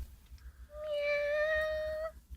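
A cat gives a single drawn-out, clear meow, loud and close, heard alone in a quiet room during an Ilocano comedy sketch.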